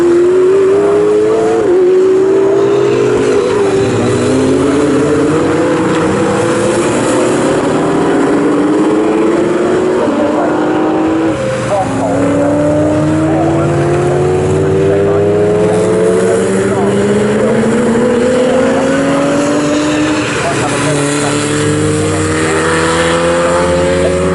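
GT and GT4 race cars circling Snetterton during an AMOC championship race, loud engines revving and shifting up through the gears in repeated rising sweeps, with a commentator talking over the constant roar.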